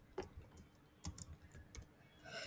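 Keys on a computer keyboard are tapped in short irregular bursts, faint close clicks with small pauses between them, in an otherwise quiet room.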